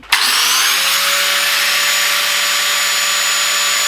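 An angle grinder cuts through a plumbing pipe, its abrasive whine starting abruptly and holding steady and loud for several seconds, close by, with no talk.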